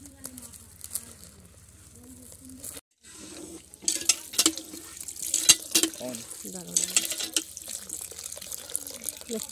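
Tap water runs into a kitchen sink while vegetables are rinsed after being rubbed with turmeric, a steady splashing wash with clinks and swishes of handling, close by, and a voice speaks over it.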